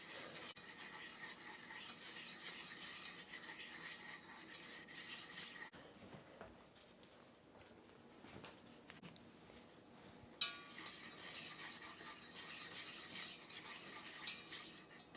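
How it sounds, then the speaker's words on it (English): Green bean casserole sauce of butter and flour stirred in a pan, a continuous soft hissing bubble with a quieter stretch in the middle, faint and close, with no talk. "Just want to keep stirring this until the mixture is smooth and bubbly."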